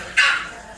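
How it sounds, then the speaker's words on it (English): A single sharp yip comes from exotic bully puppies playing nearby. It is brief and moderately loud against a quiet background. "You can hear my pups in the background there playing"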